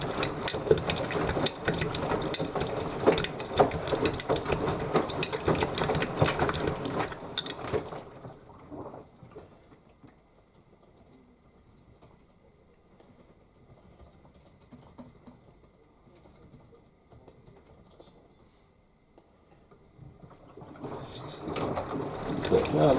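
A Beko WTL64051S washing machine on an intermediate spin during a 40ºC down wear cycle, a whirring mechanical hum that is loud at first, drops to a quiet rumble, then builds again, with voices over it.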